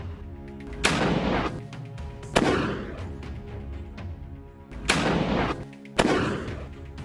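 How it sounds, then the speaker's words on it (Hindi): Sniper rifle fire from a distant building in Gaza combat footage: four sharp, loud reports in two pairs, each followed by a long echoing rumble. No one speaks. "हमास का एक लड़ाका दूर बिल्डिंग से उसके ऊपर स्नाइपर राइफल फायर कर देता है।"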